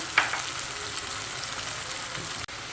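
Pieces of raw bitter gourd fry in hot oil in a pan, giving a steady close sizzle with a brief clatter at the start as they go in.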